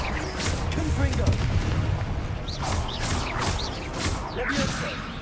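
Confringo blasting spells cast in a Harry Potter video game, several whooshing bursts with booming impacts amid background battle noise, moderately loud.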